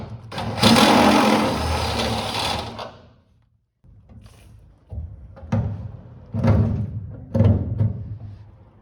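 A power drill boring holes into a car's rear subframe, a loud whirring burst followed by several shorter intermittent drilling runs and clunks, close up, with no talk.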